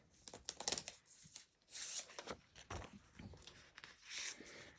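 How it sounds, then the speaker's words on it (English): A plastic bag crinkles and rustles in a quick series of close, crisp bursts as an item is pulled out of it at a desk while planner pages are being prepared. "Gotta pull this out of the plastic bag."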